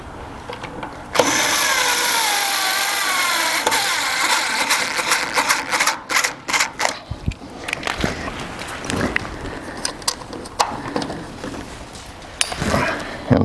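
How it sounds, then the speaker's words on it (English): A cordless electric screwdriver running low on battery during an LED tail light conversion on a 1973-87 Chevy/GMC truck, whirring loudly and steadily at first, then sputtering in uneven bursts as it loses power. "my other screwdriver running out of battery"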